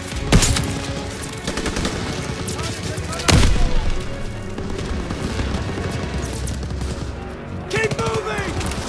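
In the Call of Duty WW2 video game, machine gun fire and explosions boom through a wartime battle, with bursts of gunfire and sharp blasts over continuous combat noise and voices shouting.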